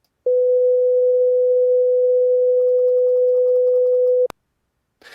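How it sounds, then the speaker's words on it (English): A pure 500 Hz sine wave tone played from a digital wave file: one steady, loud, unbroken hum lasting about four seconds that cuts off abruptly, followed by near silence. "what I have recorded in it is a sine wave playing a 500 hertz tone"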